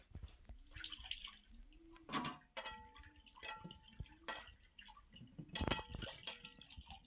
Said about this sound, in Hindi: तो लौकी को अच्छी तरह से धो लेते हैं।